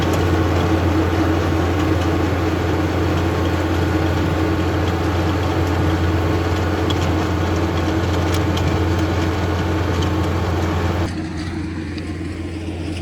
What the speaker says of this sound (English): why are we using the big tractor to till up our garden?